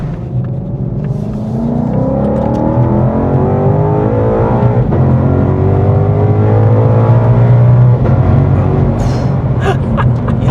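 A Ford Mustang GTD accelerates at part throttle on the road, its engine a loud, steady rising roar heard from inside the car, holding a continuous pull with no talk over it.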